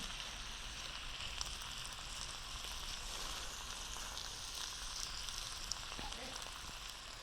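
Beef sizzling in a pot of stew as it is stirred, a faint, steady crackling hiss that continues evenly without a break.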